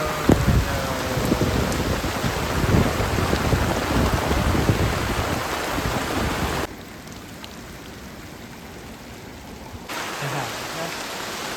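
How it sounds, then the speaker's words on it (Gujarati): Heavy monsoon rain pours down on a village in a dense, steady roar, briefly dropping to a softer hiss for a few seconds before the downpour returns. "વરસાદ પડે મિત્રો"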